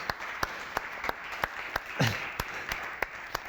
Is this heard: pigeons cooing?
no